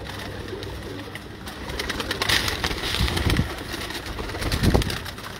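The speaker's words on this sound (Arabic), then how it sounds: "سبحان الله طير علم هذا" Soft cooing of a pigeon or dove, repeated in low rounded calls, with a few sharper bird chirps over a faint background hiss.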